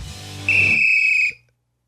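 A single sharp whistle blast rings out close and loud for about a second, then cuts off cleanly into silence.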